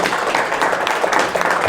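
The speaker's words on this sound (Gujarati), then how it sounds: "વાહ વાહ, તાળી પાડો, તાળી આવડી." A satsang audience claps together, a dense continuous burst of many hands at close range filling the whole moment.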